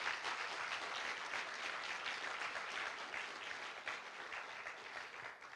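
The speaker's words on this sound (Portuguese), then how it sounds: "Dê uma salva de palmas ao Senhor Jesus." Faint, distant applause from a church congregation praising Jesus: a dense, even roar of many hands clapping that sustains throughout and thins slightly toward the end.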